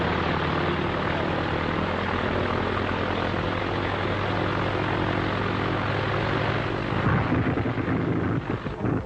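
A propeller airplane engine drones loud and steady with a low rumbling hum, continuing without pause throughout in a 1940s adventure serial set among rocky mountains.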